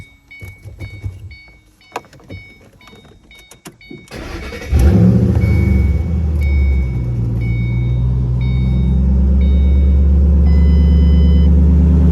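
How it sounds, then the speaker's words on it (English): A few clicks and chimes, then a car engine with dual exhaust and no mufflers cranks and catches with a loud roar, settling into a deep, throaty rumble that builds steadily. "It's got dual exhaust on it, so that's a good sign. It does sound good. I'll start it up."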